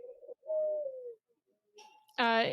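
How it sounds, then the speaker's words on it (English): A pigeon cooing indoors in a house, heard as a low wavering call, then a brief pause and a louder, harmonically rich burst of cooing near the end, close and clear with no talk over it. "It's a pigeon."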